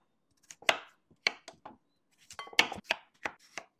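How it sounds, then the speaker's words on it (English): Peeled potato being chopped into small cubes with a knife on a board: sharp, close knocks coming in two quick bursts of several strokes each, with short pauses between them and no talking. "Now we're gonna chop in small cubes"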